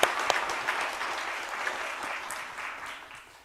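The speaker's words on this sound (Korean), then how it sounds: "우리 경례 박수 한번 드리겠습니다" A church congregation applauds during a Sunday service, a burst of clapping that starts sharply, holds briefly and then gradually fades away, with no voices over it.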